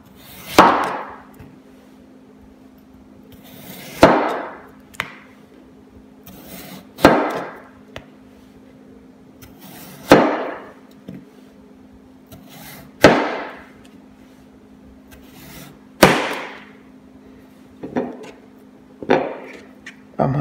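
A knife slicing peeled potatoes on a cutting board, sharp chopping thunks every couple of seconds, close and loud, with a steady low hum behind.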